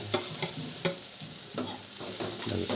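Food fries in hot oil in a home kitchen pan while being stirred, with a continuous close sizzle broken by several distinct scraping strokes of the spoon.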